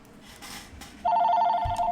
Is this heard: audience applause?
no